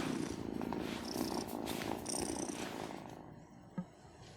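A cat in the farming video game Wylde Flowers purrs steadily and close up, a soft continuous rumble with one brief click near the end.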